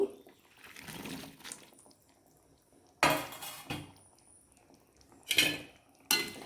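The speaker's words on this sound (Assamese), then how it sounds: "মই এতিয়া ইয়াত দিম ফ্ৰাই কৰি থোৱা পটল, এয়া আলু" Fried pointed gourd and potatoes tipped into a cooking pan, heard as a few sharp clattering bursts of metal and utensils against the pan, with quieter scraping and faint sizzle between them.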